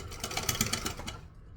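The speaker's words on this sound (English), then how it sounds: "making sure that the fold is at the edge so that we're not sewing it crooked or anything" A sewing machine runs briefly while stitching around a mini crossbody bag, giving a fast, even mechanical rattle close by before it slows and stops.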